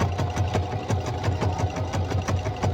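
A sewing machine stitches fabric for a homemade sugar glider tunnel, its needle hammering in a steady, rapid rhythm close by, with a low motor hum underneath and no talking.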